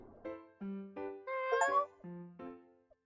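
A video game cat meows repeatedly, a string of short clear mews with rising and falling pitch, close and fairly quiet, with no talking.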